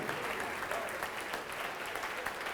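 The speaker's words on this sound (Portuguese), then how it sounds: "vamos aplaudir mais ao nome de Jesus" A church congregation claps together in dense, steady applause, moderately loud and unbroken throughout, with no voices standing out over the clapping.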